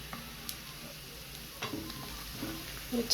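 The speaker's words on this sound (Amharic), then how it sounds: "እንደዚህ እየተቁላላ ነው።" Ful ingredients with tomato and berbere sautéing in a pan, a soft sizzle with a few sharp clicks and scrapes of stirring, close and quiet over a short moment.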